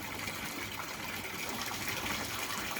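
Tap water running hard into an aquaponics grow bed with a bell siphon, a steady close gushing splash with no pauses.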